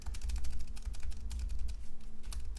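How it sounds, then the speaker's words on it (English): Rapid clicking of computer keyboard arrow keys being pressed, a steady run of close, crisp taps with a faint low hum underneath and no talking. "So if I use my keyboard arrow key"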